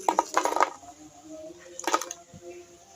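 Crisp crunching of a fried pumpkin fritter, in two short bursts of crackly bites separated by a quiet pause.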